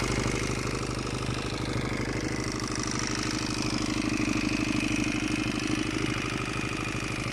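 A Mondial MR 250 Destro motorcycle engine running steadily, a continuous rough, clattering mid-pitched drone heard close and evenly loud throughout with no voices.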